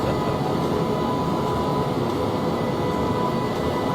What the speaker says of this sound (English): Train is louder than me, is it?